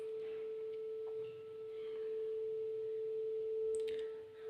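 Two phone apps play steady test tones at 440 Hz and 441 Hz together, producing one faint continuous pure tone that slowly swells and fades in a beat, heard alone over quiet background.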